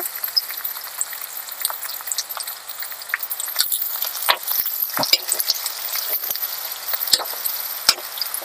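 Dried korameenu fish frying in a pan with ginger garlic paste and coriander, a close, crackling sizzle with sharp spattering pops and occasional stirring scrapes, no talking.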